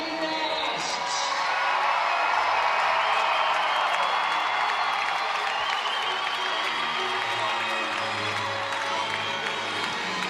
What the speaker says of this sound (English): you can still hear the roar of the crowd behind me